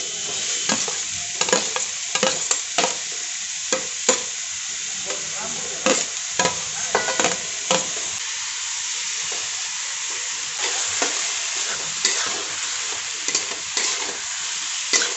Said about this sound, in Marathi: अगोदर कांदा फुल गॅसवरती आपण परतून घेणार आहोत।